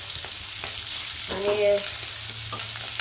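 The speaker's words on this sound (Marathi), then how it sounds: "आता मिरचीला आपण परतून घेऊ, असे चांगले डाग पडूस तर आपण आता परतून घेऊया।" Stuffed capsicum (Shimla mirchi) sautéing in hot oil, a steady close sizzle with a brief louder burst midway and one short spoken word.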